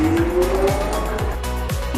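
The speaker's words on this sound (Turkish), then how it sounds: "Bu bir çatallı kaldıraç." Forklift running nearby, a loud engine rumble with a thin whine and a regular repeating mechanical pulse.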